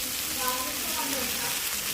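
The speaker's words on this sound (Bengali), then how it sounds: "তো এখন পেঁয়াজ, টমেটো দিয়ে আমি এখন রান্না করতেছি" Fish frying in a pan with onion and tomato, seasoned with salt, chili and turmeric, makes a steady close sizzle that continues under a faint background voice.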